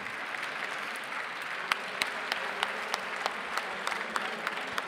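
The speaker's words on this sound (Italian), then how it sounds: "Un grande applauso per Crea Team." A crowd at an Italian main-stage hackathon awards ceremony claps for the winning team, a steady patter of applause with a few sharper individual claps standing out.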